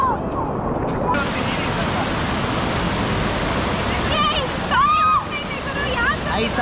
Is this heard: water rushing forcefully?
yes